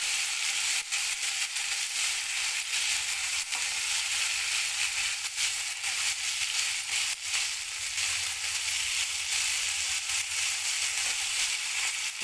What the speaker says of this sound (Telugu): తర్వాత ఈ ఆయిల్లో వేసి బాగా ఫ్రై చేసుకోవాలండి.